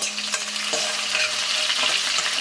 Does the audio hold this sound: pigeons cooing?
no